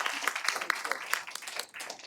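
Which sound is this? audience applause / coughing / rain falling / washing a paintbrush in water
audience applause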